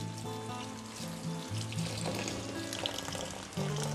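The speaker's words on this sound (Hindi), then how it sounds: "थोड़ा सा ठंडा पानी डालूंगी" Cold water runs from a tap over freshly boiled noodles, a close steady gushing splash with sink clatter and tonal hum.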